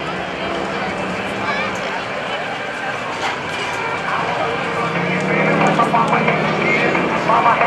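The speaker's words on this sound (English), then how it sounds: "The Solos will maneuver to gain an advantage of the other aircraft by splitting up." GEICO Skytypers aircraft maneuvering at a 2015 Naval Air Station Oceana airshow, a continuous distant propeller drone that swells louder toward the end.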